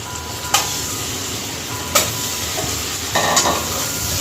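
Eggs fry in hot oil with a steady close sizzle, punctuated by a few sharp clinks of a utensil against the pan.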